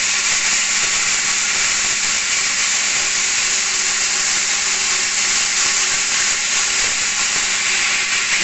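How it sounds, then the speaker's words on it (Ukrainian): Steady, loud mechanical grinding with a bright hissing whir as a grain mill grinds corn, continuous and unchanging from start to finish, with no voices. "буде молотися кукурудка, покажемо, як мелим кукурудку"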